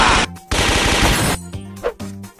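Animated gunfire from a Brawl Stars cartoon: loud rapid-fire bursts, a long sustained volley, then shorter choppy bursts with brief gaps between them.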